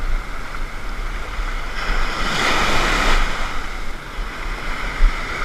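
Ocean surf breaks on the New Jersey shore at sunrise, a continuous wash of waves that swells louder in the middle, with wind buffeting the microphone and a low rumble underneath.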